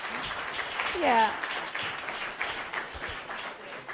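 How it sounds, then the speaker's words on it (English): Audience applause for a string quartet at a concert, a broad wash of clapping that swells around the middle, with a voice speaking briefly over it. "give them a round of applause."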